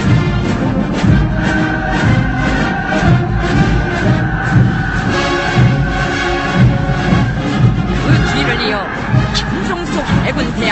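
Marching parade columns of artillery officer cadets at a North Korean military parade shout rhythmic, forceful cheers as they pass, a large crowd roaring in repeated surges under a steady narrating voice.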